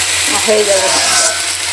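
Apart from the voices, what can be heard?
okra (bhindi) frying in oil, being stirred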